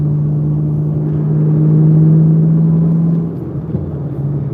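A Chevrolet Camaro ZL1 of about 650 horsepower drones steadily from inside the cabin while driving, the low engine hum swelling slightly and then easing off as the throttle changes.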